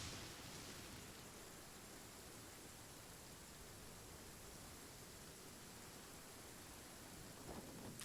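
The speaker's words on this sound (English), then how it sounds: "Oh, it's raining." Steady heavy rain hisses in a video game, a dense unbroken wash of noise with a faint rumble of thunder near the end.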